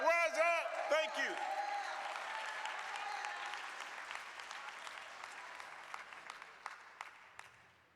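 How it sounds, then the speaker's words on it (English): Applause from an audience at a morning forum swells briefly with a few whoops and cheers at the start, then a broad crowd of clapping hands tapers off gradually to scattered claps. "Let's give the commission a round of applause again."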